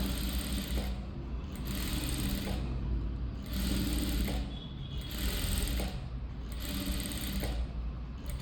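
A sewing machine runs in steady bursts, putting a loose tacking stitch along the neck of a blouse; five or six close, even whirring runs separated by brief pauses, with no talking.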